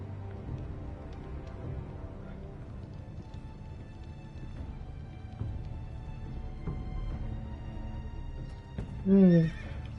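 A horse in the Game of Thrones video game, heard under a soft game backdrop of low rumble and faint tones, closes with a single loud, close whinny near the end; no hoof clops stand out clearly.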